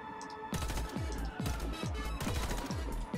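Rapid gunfire in the Warface shooter game, a steady rhythmic string of loud punchy shots with deep thumping tails, fired in quick bursts close up after a brief quiet lead-in.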